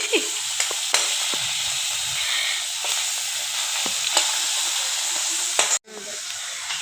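Fish frying in a pan, a loud steady sizzle with occasional sharp clinks and scrapes of stirring, ending in a brief sudden dropout before the sizzle resumes.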